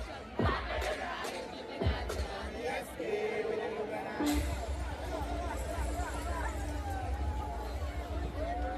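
A festival crowd at the Lucian Jazz & Arts Fest shouts and cheers in the distance, a busy outdoor babble with scattered whoops and calls, while nearby voices talk over it.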